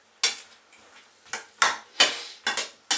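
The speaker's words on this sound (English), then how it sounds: "get your spatula in there, turn them over" A spatula clanks and scrapes against a pan while turning potato wedges and onion rings in sauce for a chicken, bacon and sausage stir fry: about six sharp, close knocks at irregular intervals, with no voices.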